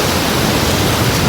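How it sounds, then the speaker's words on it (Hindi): Heavy monsoon rain pours in a dense, even hiss that stays constant and loud throughout, with no voices. "बारिश देखो।"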